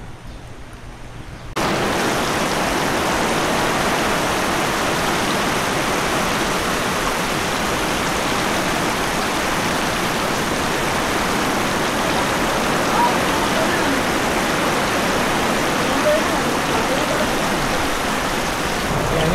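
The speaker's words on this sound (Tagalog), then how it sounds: "Oh, yan na naman ang ulan, no? Padilim na naman." Heavy rain pours down steadily in a dense, constant wash of noise, loud and close, with no break after a brief quiet start.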